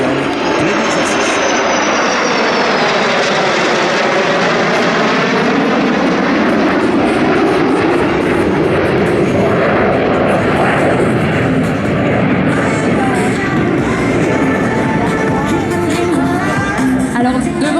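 Several aircraft at an air show, a P-51 Mustang with Rafale jets flying in formation, roar past loudly and continuously, engine noise rising and sweeping overhead with a broad rumbling wash throughout.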